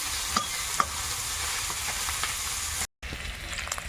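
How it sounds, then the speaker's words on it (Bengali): Fish sizzles and crackles in hot oil in a pan, a steady frying hiss with a few sharp pops and light stirring. "মাছগুলো হালকা একটু ভাজা ভাজা হয়েছে"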